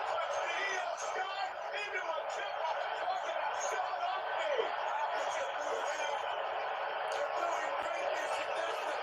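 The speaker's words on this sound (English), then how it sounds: "That's why the crowd booing her." Dense arena crowd noise at a WrestleMania 41 match in Las Vegas, a sustained loud roar of booing and jeering spread evenly across the full length, with scattered shouts mixed into the mass of voices.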